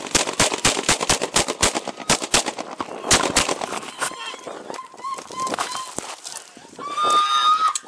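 Police body camera recording of gunshots, a rapid burst of sharp close shots followed by a few more, then shouting voices and a rising siren-like tone.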